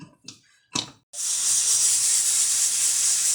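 A pressure cooker on a gas stove, cooking a Gujarati aubergine and potato curry, lets off a loud, steady rush of hissing steam after two short bursts, continuing alone without pause.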